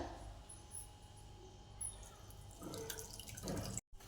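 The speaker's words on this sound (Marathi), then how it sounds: "आता चीक हा ताटातला ना आपण हा डब्यामध्ये ओतून घेऊया" Milky wheat starch liquid poured from a plate into a container while making wheat kurdai, a soft, steady watery trickle heard close up with faint splashes, ending in a brief gap.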